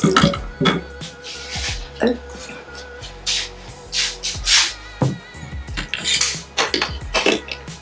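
A marble cake in its pan comes out of a compact cooker oven amid loud clattering of metal and cookware, with scraping and knocking, and speech breaking in between the clanks.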